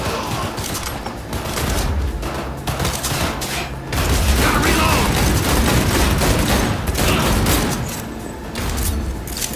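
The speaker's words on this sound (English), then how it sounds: "Under heavy fire!" Rapid bursts of gunfire from a firefight in the Cyberpunk 2077 video game crack and boom close by for several seconds, dense and loud with only brief lulls.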